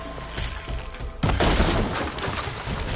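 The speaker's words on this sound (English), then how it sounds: "Keep that firing going!" Heavy gunfire and booming impacts erupt in Horizon Forbidden West, a sudden loud volley after a quieter stretch of scattered shots, continuing as a dense battle din with no talk over it.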